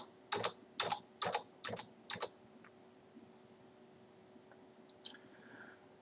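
Computer keyboard keys pressed in a quick burst of about eight crisp clicks, close and clear, then quiet before a couple of faint taps near the end, while navigating in ADA Designer design software.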